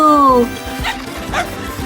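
A cartoon dog gives a quick pair of high, voiced yelps in an animated show, close and loud, followed by lively talk and background music.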